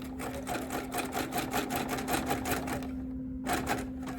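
Sewing machine stitching through fabric-wrapped clothesline rope for a scrap-fabric trivet, a steady, rapid, close mechanical rattle that runs for several seconds, stops briefly, then starts again.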